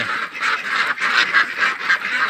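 A crowd of ducks quacking together nonstop, loud and close, a dense overlapping chatter of calls with no pauses.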